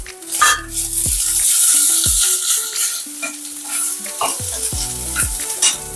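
Chicken and rice stir-frying in a pan, loud bright sizzle with busy scraping and clattering strokes of a utensil, close up and continuous, no voices.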